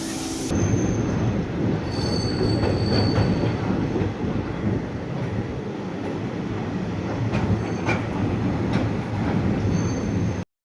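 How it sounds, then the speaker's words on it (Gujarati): A train pulls into a station with a steady, loud rumble of rolling wagons, wheel squeal and clattering over the rails, continuing without a break for about ten seconds. "આ એક ટ્રેન આવી છે, હવે કઈ છે તે ખબર નહીં"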